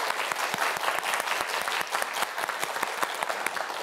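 A studio audience at a Korean science quiz show applauds a student contestant, a dense even burst of many hands clapping nearby, steady and fairly loud for a few seconds with no talk over it.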